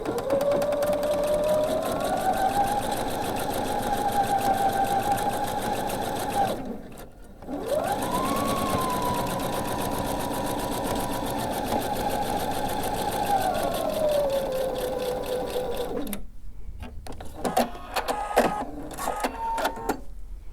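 A sewing machine stitches a quilt block, running in long steady buzzing passes with rising and falling motor pitch, pausing briefly between seams, then giving a few short clicks and taps near the end.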